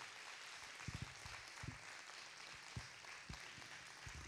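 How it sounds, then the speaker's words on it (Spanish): Faint, steady applause from a church congregation honouring the pastor's mother, a distant wash of clapping with a few sharper low thumps scattered throughout. "yo te voy a pedir que des un fuerte aplauso por mi mamá"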